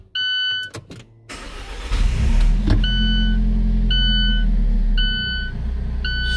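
Alfa Romeo 4C with a 1.8 engine cranks and fires up, rising into a loud, steady low idle that fills the rest of the span, with a few chime beeps from the cabin repeating over it.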